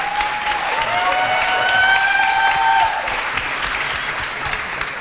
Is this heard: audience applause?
yes